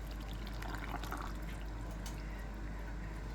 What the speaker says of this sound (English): And we'll add our water.